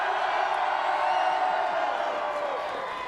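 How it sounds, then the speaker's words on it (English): A large boxing crowd in Cardiff roars and cheers for Anthony Joshua at a public workout, a dense, continuous wall of noise with whoops over it. "this crowd are making a huge noise"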